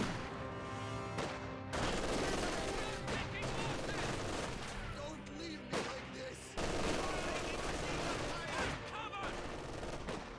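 A Maxim machine gun fires in the video game Company of Heroes 2, loud sustained bursts separated by short breaks and layered with other dense battlefield gunfire.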